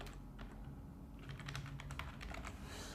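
Quick, light keystrokes on a computer keyboard as a short title is typed, a steady patter of soft clicks close by with a low background hum.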